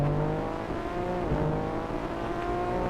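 Tuned BMW G82 M4 with a muffler delete, engine droning loud and steady under acceleration, a dense continuous exhaust roar with harmonic bands held throughout.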